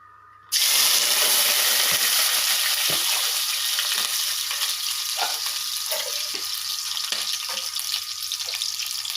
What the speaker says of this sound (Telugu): ఆయిల్ వేడెక్కిన తర్వాత యాలకులు, లవంగాలు, ఒక 3 యాలకులు అండి, ఒక చెక్కలు ఒక 3 చిన్న చిన్నవి, ఒక లవంగాలు ఒక 5 తీసుకున్నానండి.